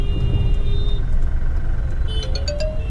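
A car pulling away as the clutch is released during a driving lesson, a steady low engine rumble and road noise filling the clip, with faint tonal beeps near the end.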